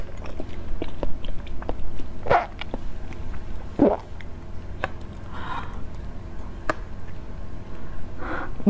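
Close, quiet chewing of passion fruit jelly dessert, with a few sharper bites and soft wet mouth sounds spread through the clip over a low steady background hum; no talking.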